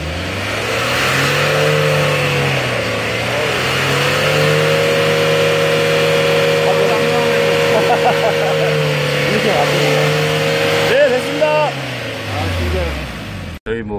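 A 2007 Hyundai Starex van's engine revs steadily under the accelerator during an emissions test, a loud sustained drone that dips and rises slightly before easing off near the end.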